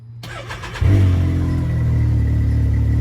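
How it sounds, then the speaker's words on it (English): A Can-Am X3 UTV engine with aftermarket Valvetronic exhaust cranks briefly then fires up and settles into a loud, raspy, throaty idle that rumbles steadily close by. "the sound of the exhaust is a little bit raspier or throatier than the stock exhaust"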